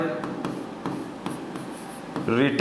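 A pen scratches across paper as grammar notes are written, a steady soft scraping with small taps, and a voice cuts in near the end.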